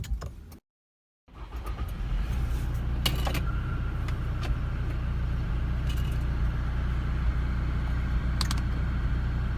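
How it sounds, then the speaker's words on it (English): A 2019 Toyota Fortuner SUV fires up with its push-button stop-start ignition: a brief silence, then the engine catches and settles into a steady, close, continuous idle rumble with light clicks above it. "let's turn the car on one more time, hit the brake. You have got stop start ignition"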